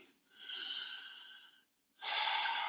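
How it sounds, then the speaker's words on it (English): Slow breathing during a yoga class, one long exhale followed after a pause by another, soft and close with a faint airy hiss. "Enjoy breathing."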